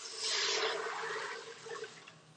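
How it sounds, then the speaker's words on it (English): Six cups of water pour from a batter bowl into a pressure cooker pot of black beans and vegetables, a brief close splashing gush that tapers off into a few trickles. "we're gonna add in 6 cups of water"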